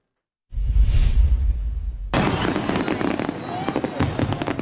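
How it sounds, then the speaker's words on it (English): A Fourth of July fireworks display at Fort Vancouver opens with a rising whoosh, then bursts into dense crackling and popping explosions that continue loudly and steadily. "We know Fort Vancouver for one of the largest 4th of July fireworks displays in the West."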